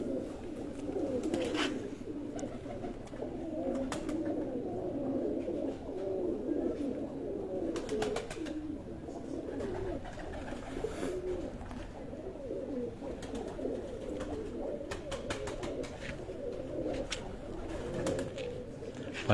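Cross-bred pigeons coo softly and continuously, a low rolling murmur from several birds, with occasional faint clicks and flutters in the background.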